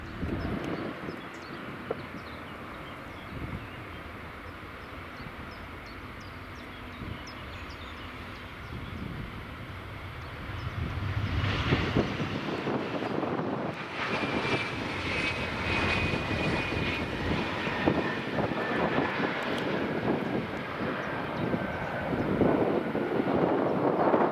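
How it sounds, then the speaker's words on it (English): Loganair Embraer E145 regional jet at Edinburgh Airport: a steady distant engine rumble swells into a loud, near jet roar with a rising whine that holds to the end, with no voices. "here's the Embraer E145 of Loganair"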